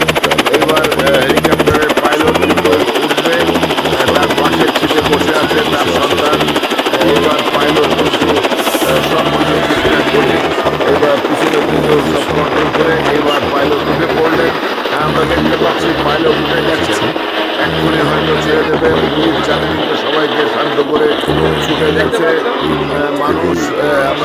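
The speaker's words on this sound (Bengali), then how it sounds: "দেখতে পাচ্ছি হেলিকপ্টারটি উড়ার অপেক্ষায়" A helicopter waiting on the ground in a remote village before takeoff, its engine and rotor giving a loud, continuous throbbing drone throughout while people chatter in the background.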